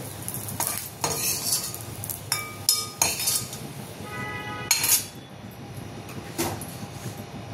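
Roasted green chillies being scraped and lifted out of a pan, a series of clinking spatula strikes and scrapes against metal over a low sizzle, irregular and close.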